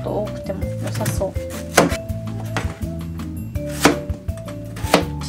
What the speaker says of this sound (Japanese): じゃがいもは皮と芽を取ったら一口大に切ります。